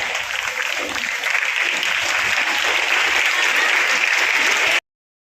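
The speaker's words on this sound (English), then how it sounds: "give one round of applause, the standing ovation for all the achievers" An audience rises for a standing ovation honouring student medal winners at a school ceremony, with sustained, even clapping that stays loud for several seconds and then cuts off abruptly.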